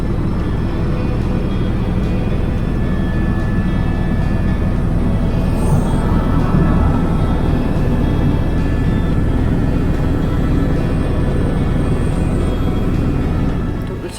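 Helicopter flying over Réunion island, a loud continuous engine and rotor drone heard from inside the cabin, steady throughout and easing slightly at the very end.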